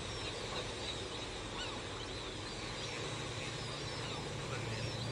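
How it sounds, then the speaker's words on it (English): White pelicans, ducks and other waterfowl at a wildlife refuge make a dense, distant chorus of honks and clucks over a steady noisy background. "You can hear the white pelicans, ducks, and their cacophony of friends coo and cluck."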